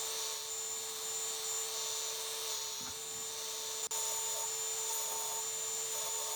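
Power sander working over scrap wood desk pieces, neatening corners along wavy cut edges: a constant high-pitched whine and buzz held steady at close range, with one brief click partway through.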